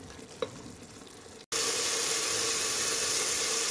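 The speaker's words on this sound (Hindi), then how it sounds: "अब मैंने इसको इसमें योगर्ट डाल दी और योगर्ट डाल के इसको मैं भूनती हूँ" Mutton liver frying in hot oil after yogurt is added, cinnamon and cardamom in the pan. A faint sizzle and a single tap give way, after a brief gap, to a loud, steady hiss of frying that continues to the end.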